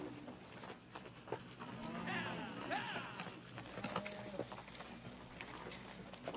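A horse being ridden, its hooves clip-clopping at a steady walk under people talking, with other faint outdoor sounds in an old Western setting.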